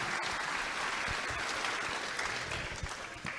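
At a Catholic teaching session, an audience gives Padre Luis Toro sustained applause, a dense even clapping heard at a moderate distance and fairly soft throughout.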